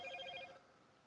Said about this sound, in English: I need to turn off my notifications.